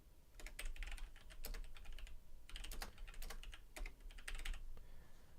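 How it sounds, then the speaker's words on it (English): Quick, uneven bursts of typing on a computer keyboard, with the keys tapped furiously in clusters and short pauses between them. The clicks sound fairly close over a low hum of a whirring machine. "A shadow was hunching over the whirring machine, furiously tapping at keys."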